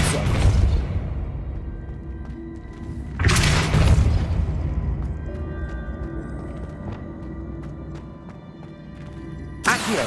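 Spell casts in the Hogwarts Legacy video game land as loud booming blasts with whooshing bursts, one near the start, another around three seconds in and a final short burst at the end, over a steady ambient bed.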